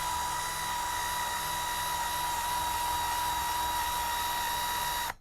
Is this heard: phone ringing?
no